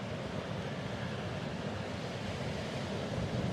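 Ocean waves and wind on a beach in Kauai, a steady wash of surf and gusting air at a low, even level throughout, with no voices.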